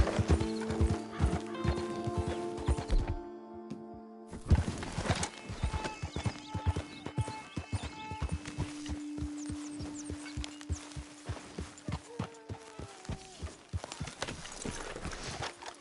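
Horse hooves clip-clop in a steady rhythm through the open world of Red Dead Redemption 2, with a neigh or whinny and a sustained music-like drone underneath; close and clear, no talking.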